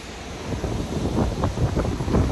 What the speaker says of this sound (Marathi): पाणी म्हणजे मोकार पाणी चालू आहे